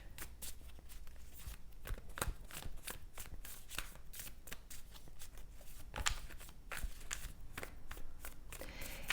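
Tarot cards from a Light Seers Tarot deck are shuffled by hand at close range, a quick series of riffling flicks and soft slaps repeating steadily throughout.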